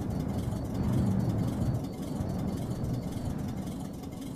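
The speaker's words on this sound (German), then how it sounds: "Lief der Motor die ganze Nacht." A pickup's engine idles in the driving game The Long Drive, a steady low hum and whir that swells slightly early on and then settles to an even drone, with no talk over it.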